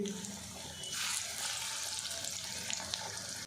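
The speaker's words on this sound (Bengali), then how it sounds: "সবগুলো পটল এইভাবে ফ্রাই করে ফেরত আসছি" Pieces of pointed gourd (potol) fry in a pan, a soft steady sizzle that swells briefly partway through, fairly quiet and close, with no talking.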